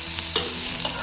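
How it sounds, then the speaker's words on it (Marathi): Garlic frying in hot oil while being stirred with a spoon, a continuous close sizzle broken by a few sharp scrapes of the utensil against the pan. "लसूण छान भाजून घेऊया."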